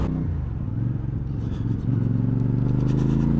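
CF Moto 450CL-C motorcycle engine running at a low, steady idle, a close, deep throbbing rumble that settles into an even pulse partway through, with faint wind noise above it.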